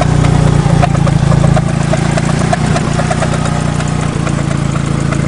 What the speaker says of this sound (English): Timing belt covers rubbing just a little bit.